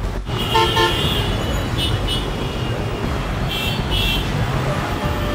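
Busy Dhaka street traffic, loud and continuous, with repeated car horn toots cutting through the steady engine and road rumble of passing vehicles.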